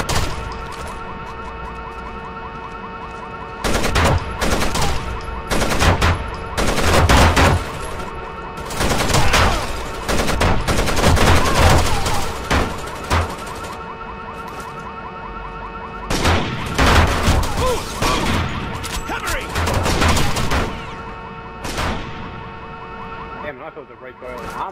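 Machine gun fire in Rainbow Six Vegas: loud bursts of automatic fire in clusters, with steady wailing sirens underneath and quiet gaps between the volleys.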